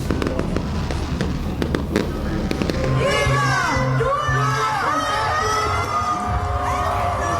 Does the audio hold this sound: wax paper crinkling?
no